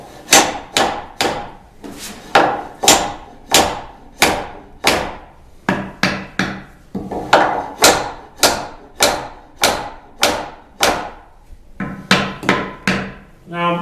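A wooden wedge is hammered into a pine woodworking joint with a steady run of about twenty-five sharp, loud, close mallet blows, each ringing briefly, in an even rhythm with only short pauses between strikes.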